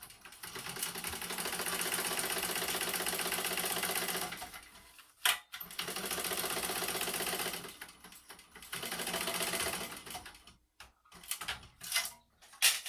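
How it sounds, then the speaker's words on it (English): A sewing machine stitches a seam at 3/8 inch on a Nyx clutch bag, running in long steady whirring stretches broken by short pauses and a few stop-start bursts near the end, close and clear. "So I'm going to sew at 3/8 inch."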